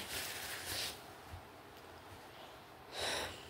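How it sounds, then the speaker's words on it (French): Someone with summer hay fever blows their nose indoors near an open window: two fairly loud, breathy bursts, one near the start and another about two seconds later, with quiet hiss between and no talking. "je fais que me moucher, désolée"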